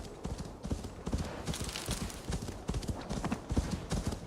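Horse hooves clip-clop steadily across ground in the Assassin's Creed Valhalla video game, a close, continuous trotting rhythm with no talk over it.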